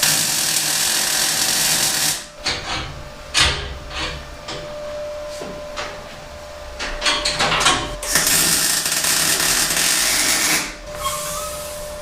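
Tack welding cross member mounts on a Toyota Starlet KP62 in a garage, done without shielding gas; loud, close crackling hiss runs in bursts with brief gaps between tacks.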